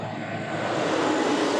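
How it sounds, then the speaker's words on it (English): A tractor rumbles nearby, its broad engine noise slowly growing louder as it approaches and passes. "I've got a tractor coming behind me."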